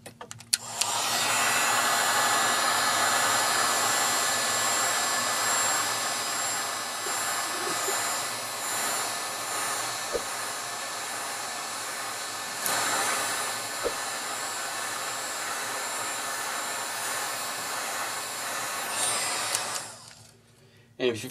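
A heat gun blows steadily for about twenty seconds while heating the glass of an iPad screen near the Wi-Fi flex, a loud, constant airy roar that cuts off near the end.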